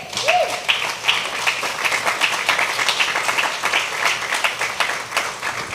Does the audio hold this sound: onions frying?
no